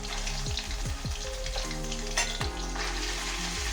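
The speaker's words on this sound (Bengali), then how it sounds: "তারপর আদা রসুনটাকে ভালো করে কষিয়ে নেব, যাতে কাঁচা গন্ধটা চলে যায়" About 600 grams of chicken fries in a pan with ginger and garlic paste, hissing in a steady sizzle while a spatula scrapes and stirs in several close strokes.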